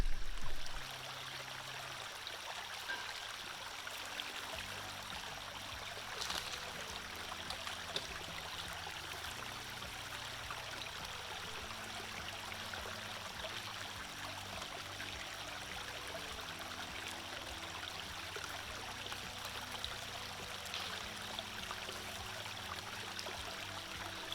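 Water runs and trickles steadily through a gold-prospecting sluice for the whole stretch, a continuous close splashing flow with no voices.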